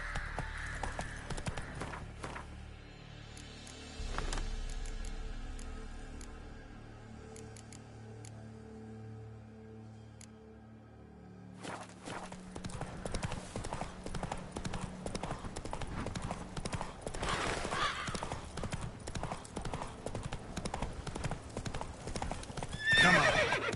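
Horse galloping in The Witcher 3, rapid rhythmic hoofbeats close by with a whinny, running steadily and picking up pace, a voice briefly heard.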